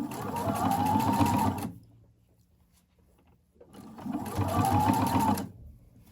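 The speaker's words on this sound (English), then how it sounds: "You should be stitching the underwire channeling on the cup side of the seam." A sewing machine stitches underwire channeling onto the cup side of a bra seam, running in two loud, close bursts of about two seconds each with a quiet pause between.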